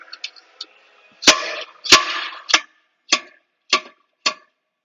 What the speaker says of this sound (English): Just going to take our slide hammer.